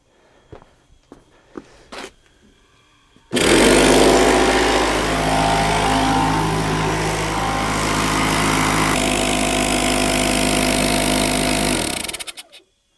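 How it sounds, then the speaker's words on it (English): A slow air compressor inflates a split rim tire. A few quiet handling clicks come first, then the motor kicks on with a loud, steady, close running roar for about nine seconds before winding down. "what we're gonna try today is a slow air compressor and just let it air up slowly"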